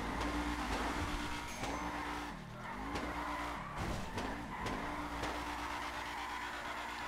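GTA 5 FiveM car drifting: a steady, loud engine drone with rising and falling pitch sweeps and continuous tire skid noise, briefly dipping in the middle, with no voices.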